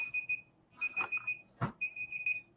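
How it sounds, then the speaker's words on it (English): An alarm going off: a thin electronic beeping in short rhythmic pulses, fairly quiet and indoors, with a brief thud or rustle in the middle. "Got an alarm going off."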